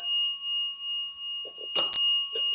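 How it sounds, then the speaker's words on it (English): Bells ring steadily at a reportedly haunted house, a sustained high metallic tone with a brief louder burst of clanging partway through; no one speaks. "My bells are ringing. Can you hear it?"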